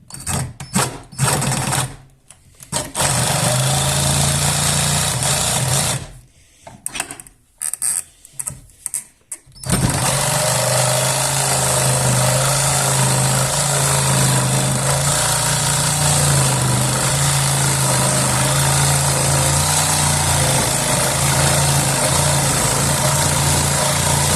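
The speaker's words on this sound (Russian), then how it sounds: "Ставим упор вот так вот этим упором сюда к дереву. Вот так вот. И начинаем пилить." A Sturm RS8820CL reciprocating saw cuts wood with a loud, buzzing mechanical drone that starts and stops in short bursts early on, then runs steadily for a long stretch.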